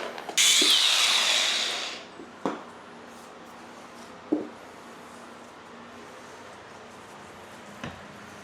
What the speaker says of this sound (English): I'll just cut it with the grinder.